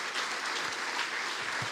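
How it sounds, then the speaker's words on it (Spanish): A church congregation gives a sustained round of clapping, dense and fairly soft, filling the room without a break. "¿Cuánto le damos un aplauso fuerte al Señor?"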